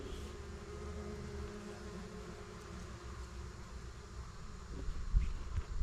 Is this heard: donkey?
no